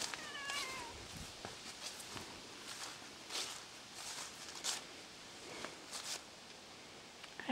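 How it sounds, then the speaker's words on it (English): A cat meows repeatedly near a tool shelf, with quiet footsteps, shuffling and light rustling between the cries. "kitty, I don't like it when you cry at me"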